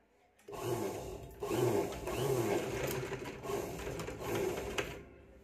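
A sewing machine sews a row of about ten straight stitches along the edge of fabric in a quick steady whir, pausing briefly between short bursts, close and fairly loud with no talking.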